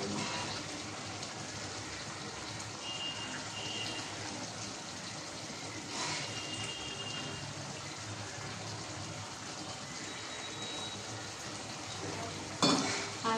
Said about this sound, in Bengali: চুড়ি মাছ ভাজার জন্য আমি এখানে তেল দিয়ে দিয়েছি